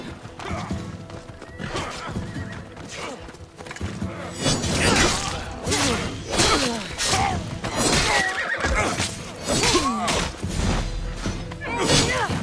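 Horse neighing and whinnying in Assassin's Creed Odyssey, amid clip-clopping hooves, crashing action sounds and talk, loud and close over several seconds.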